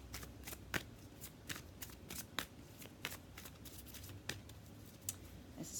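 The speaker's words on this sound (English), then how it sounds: "Okay, so I'm going to pull one more card here." Tarot cards being shuffled and pulled, giving a steady run of crisp riffling flicks and soft slaps that recur every second or so, close and alone with no talking.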